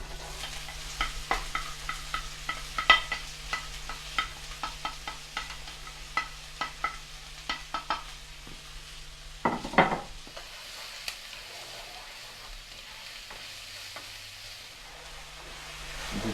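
Steady sizzling of onions frying in hot oil in a pan for risotto, with repeated scraping and clicking strokes of a utensil stirring, fairly close and without talk.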